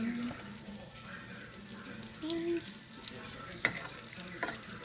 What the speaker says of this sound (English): So our chicken has been cooking for a few minutes now